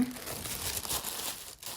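Close, loud crinkling and rustling of wrapping paper around items in a gift box being handled, a short burst of crisp crackles.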